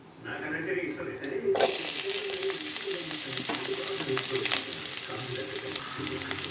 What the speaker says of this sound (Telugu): అవి ఏగుతుండగా ఉల్లిపాయ పచ్చిమిరపకాయలు వేసేస్తాను